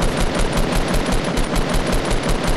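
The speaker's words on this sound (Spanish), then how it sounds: "están pegándose de tiros aquí enfrente" Rapid bursts of automatic gunfire in the battle royale game Fortnite, a dense continuous rattle of shots at close range lasting the whole stretch, loud and steady with no talking over it.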